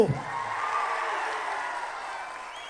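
A crowd at a Congress party political rally claps in a sustained burst of applause, steady and fairly loud, just after a speaker's voice trails off at the start.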